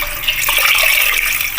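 Water pouring steadily into a pressure cooker holding rice, a close, continuous splashing gush that runs the whole time without pause.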